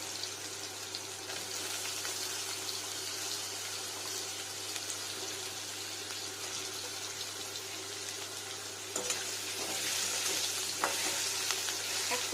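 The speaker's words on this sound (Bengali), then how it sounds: "একটু ভাজা ভাজা হয়ে যাক আলুটা" Washed potatoes fry in oil in a pan, a steady close hiss and crackle of sizzling that swells slightly louder toward the end, with no one talking.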